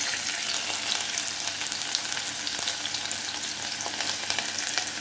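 Onions sizzle in oil reused from frying fish roe, the start of a tomato chutney; a loud, dense, continuous hiss with occasional stirring clicks, up close and without voices.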